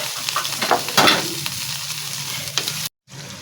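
Pieces of chicken go into a hot pan of oil with tomatoes for chicken karahi, giving a close, loud sizzle with scraping stir noises before a brief cut to silence.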